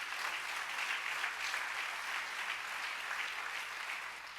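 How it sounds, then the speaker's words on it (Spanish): Steady applause from a church congregation during a sermon, many hands clapping continuously at an even level throughout. "Él merece nuevamente un buen aplauso"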